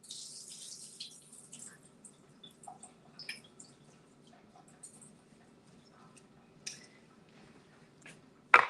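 Water runs and drips into a kitchen sink as cooked filling for lettuce wraps is drained, a soft steady trickle with small clinks and one sharp clatter at the end.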